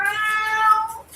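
A pet cat gives a single drawn-out meow, clear and close, with faint background sound.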